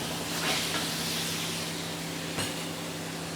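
Ventura Limoncello hitting a hot pan: a steady, close hiss of sizzling that swells briefly at the start, with a small click partway through.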